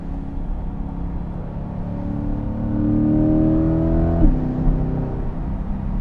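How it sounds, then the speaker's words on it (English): A 2020 C8 Corvette fitted with a Fabspeed Valvetronic exhaust revs up to a rising, sustained engine whine, then cuts off sharply with a pop, followed by a brief crackle and settling idle rumble. "You can hear all the backfiring and it just sounds amazing."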